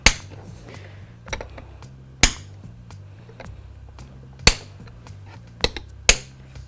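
Plastic latches on a Coyote STP service termination point cover snap shut in a series of sharp, close clicks spaced irregularly about a second apart, with quiet handling noise in between.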